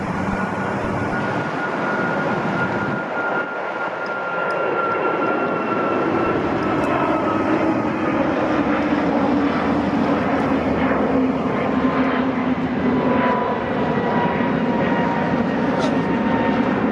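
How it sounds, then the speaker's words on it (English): An Airbus A321LR jet departs Newark Liberty airport with a loud, continuous roar of engine noise that holds steady throughout, while a voice talks over it. "This flight is operated with an Airbus A321LR, the long-range variant which preceded the A321XLR"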